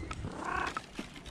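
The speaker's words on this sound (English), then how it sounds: "I hear you purring." A cat purring softly and close, a low rumbling drone with faint breathy pulses, no talking over it.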